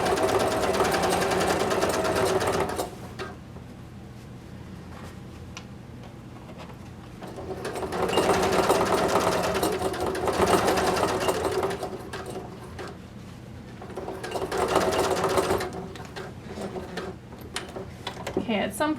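A sewing machine stitching a separating zipper into a quilted vest runs in three steady bursts with pauses between, close and even, and someone talks during the stops.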